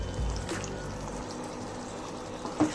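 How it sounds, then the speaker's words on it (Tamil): Water poured from a mixer jar into a pan of ground tomato and coconut cooking paste, a brief low splash near the start, then quiet liquid trickling and a small clink near the end. "இதில் கொஞ்சமாக ஜாரில் தண்ணி ஊற்றி ஊற்றிக்கலாம்."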